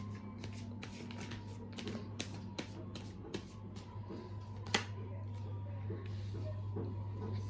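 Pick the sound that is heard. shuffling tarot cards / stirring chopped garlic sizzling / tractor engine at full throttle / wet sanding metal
shuffling tarot cards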